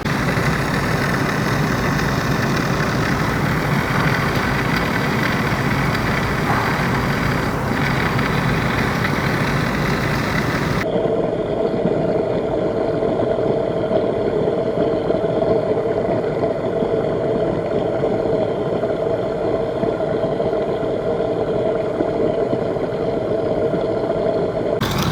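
A pump runs steadily, drawing sediment-laden water through a venturi tube, as a continuous loud mechanical drone that changes tone abruptly about halfway through and then keeps humming evenly.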